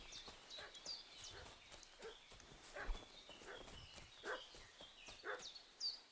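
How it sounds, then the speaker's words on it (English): A dog barks in the Kingdom Come: Deliverance II video game, faint and distant barks scattered across a quiet outdoor ambience with soft hoof-like clops and footsteps. "What's that dog making such a fuss about?"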